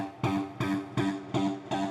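Progressive house synth preset called Evolving Yodeler, run through distortion and delay: five rhythmic, evenly spaced pulsing notes with a buzzy, gritty tone and smeared tails, alone and fairly loud.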